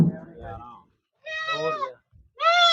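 Goat bleats close by, a shaky wavering call, then two more strained cries after short pauses.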